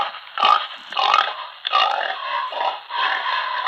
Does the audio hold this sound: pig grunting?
yes